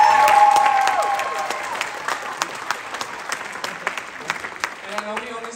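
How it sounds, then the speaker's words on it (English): An audience at an evening stage show claps for the piano accompanist. Full, sustained applause trails off into scattered claps, with a sung or tonal note at the start and voices underneath. "So a round of applause for Nick."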